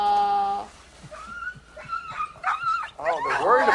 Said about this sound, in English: What a good dog.